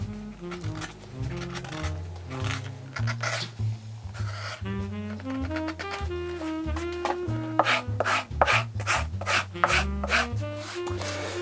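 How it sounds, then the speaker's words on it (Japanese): Rasping and filing scrapes shaving down the rounded, protruding stacked-leather heel of a handmade bespoke shoe, repeated rhythmic strokes close and steady against background music. "まだね丸いので、この丸い飛び出ている部分削っていきます。"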